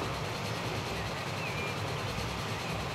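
Steam train running in the Transport Fever video game, cruising at about 60 miles an hour on a ride past the Great Lakes in Canada: a steady, unbroken rumble with a faint rolling rattle, continuous throughout without any talk.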